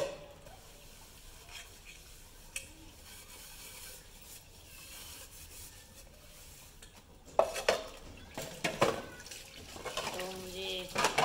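Dishes, pots and cutlery being washed in a home kitchen, with water running under clinks, scrapes and clatters that turn louder and busier toward the end, and a voice talking quietly in the background.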